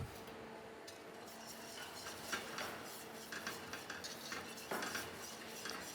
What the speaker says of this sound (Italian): E subito andiamo a rimescolare.